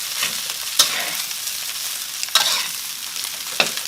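Crab fried rice is stir-fried in a pan, with a soft sizzle underneath and three sharp scraping clinks of a utensil against the pan spaced a second or so apart, with no talking.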